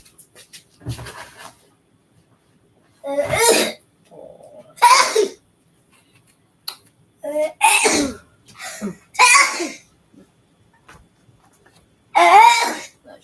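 A few loud sneezes and throat-clearing bursts break up quiet stretches, close and abrupt, with some light noises between.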